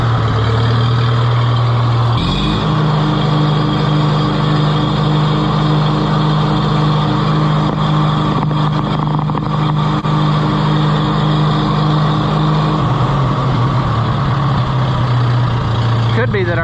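An Oliver 66 tractor engine runs loud and steady close by at idle, its low drone shifting to a slightly higher pitch after a couple of seconds and settling back down near the end.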